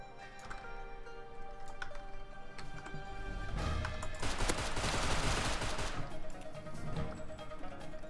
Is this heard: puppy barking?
no